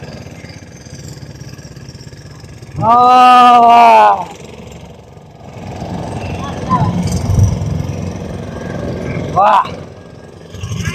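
A boat engine hums steadily on the river at Omkareshwar, a low mid-pitched drone that runs under a loud exclaiming voice and some distant chatter.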